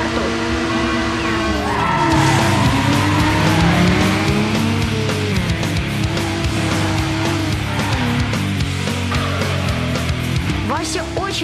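Old race cars in an animated film rev and skid at the start of a race, with engine drones and tire squeals layered over music, loud and continuous.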